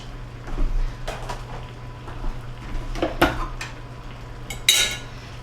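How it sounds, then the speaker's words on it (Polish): Homemade ice cream being spooned from its container into a chilled bowl in a home kitchen, heard as a handful of light metal-on-ceramic clinks and scrapes spread across a quiet room, with one sharper clatter near the end. "Wyłożymy całość do miski."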